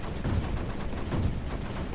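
Turrets in the strategy game Creeper World 4 fire in a steady stream of dense, overlapping bursts, a rapid crackling barrage that swells twice and never lets up across the stretch.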